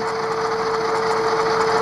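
An ESU LokSound Select decoder in a Rapido GMD-1 model diesel locomotive revs its engine sound, giving a steady, dense, droning buzz with a sustained tone that holds evenly, close and moderately loud, with no talk.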